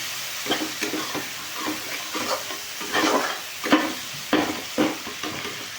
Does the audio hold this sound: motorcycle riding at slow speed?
no